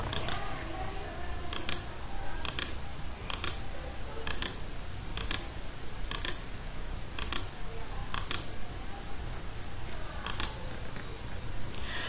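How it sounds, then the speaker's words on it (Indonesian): Number keys on the keypad of an RFID student attendance system are pressed one at a time, giving about ten sharp, close plastic clicks at a steady, slightly uneven pace over a low background hum. "mahasiswa memasukkan NIM mereka melalui keypad dengan menekan tombol angka satu persatu"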